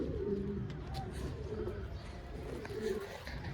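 Green and jiriya pigeons cooing close by in a crowded coop, soft low repeated coos over a steady background murmur, with faint chirps mixed in.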